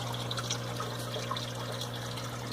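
A Sea Clone 100 protein skimmer runs with water, giving a steady close trickling and bubbling wash over a low constant hum, with no talk.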